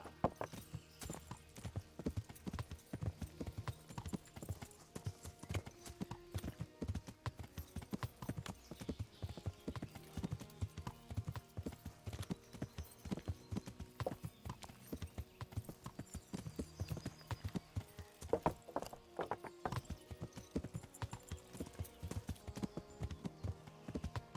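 Horse hooves clip-clop in a steady, continuous rhythm in the video game Kingdom Come: Deliverance, crisp and close, with faint tonal background sounds underneath.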